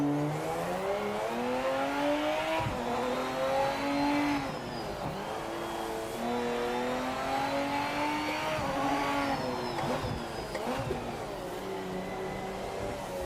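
A race car engine in the sim racing game Project Motor Racing revs high and steady, rising and falling through gear changes with occasional tire noise, loud and continuous with no talk.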